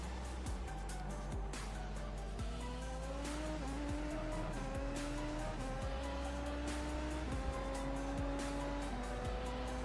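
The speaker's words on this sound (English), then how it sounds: "super Formula car." A Super Formula race car in the iRacing simulator at Suzuka, its engine droning and rising through repeated upshifts as the tires squeal steadily, loud and continuous for the whole stretch.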